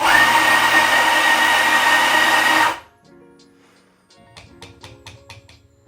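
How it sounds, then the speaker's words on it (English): A Turin ZF83 commercial coffee grinder grinds beans into a portafilter with a loud, steady whir that cuts off abruptly, followed by quieter clinks and taps of the portafilter. "I'll just take my portafilter and I'll grind into the portafilter just so you can see it work on camera."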